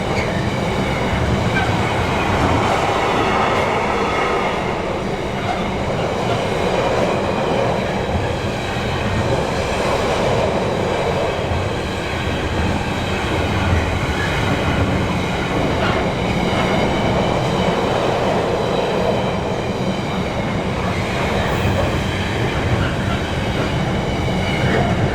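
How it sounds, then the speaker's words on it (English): A freight train rolls past close by for the whole stretch, a continuous loud rumble with rhythmic wheel clatter and faint squeals, no voices. "Freight train."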